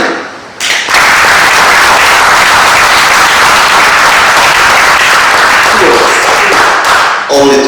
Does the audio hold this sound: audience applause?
yes